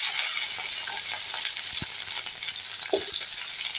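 Brinjal pieces frying in oil with curry leaves, green chilli and mustard seeds, a loud steady hiss of sizzling oil with a couple of soft knocks and stirs, close and without speech.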